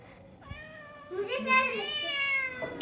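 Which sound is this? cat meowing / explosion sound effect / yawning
cat meowing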